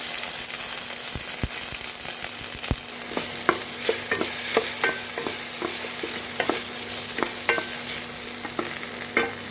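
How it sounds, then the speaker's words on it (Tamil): Okra and potato frying in hot oil, a steady close sizzle with repeated clinks and scrapes of a spoon stirring the pan throughout. "வெண்டைக்காவை போட்டு எண்ணெயில் போட்டு பொரிச்சு எடுத்துடலாம்"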